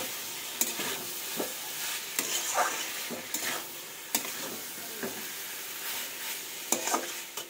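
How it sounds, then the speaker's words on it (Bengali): Yam and soybean being sautéed in a pan, with a steady sizzle broken by repeated scrapes and stirs of the spoon, close and fairly quiet, with no talking. "এটা আমি কষাই করবো একদম।"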